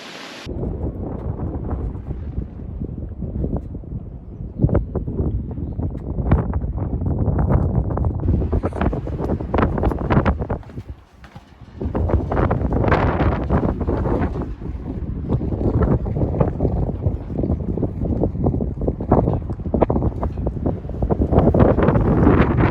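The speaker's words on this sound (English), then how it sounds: "it was windy in April, but it's a lot windier today" Strong gusty wind buffets the microphone at High Point Lake, Pennsylvania, while kayak fishing, a loud rumbling roar that surges and drops, briefly easing at one point before it picks up again.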